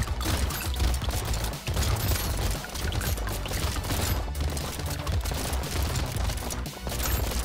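Rapid, dense gunfire from Brotato, continuous crackling volleys with many overlapping shots and clattering hits, loud and unbroken.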